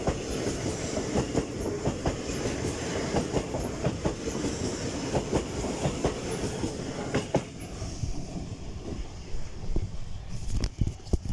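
A TransPennine Express passenger train from Newcastle to Manchester Piccadilly rolls through Darlington station with steady rumbling and clickety-clack of wheels over rail joints, lasting throughout.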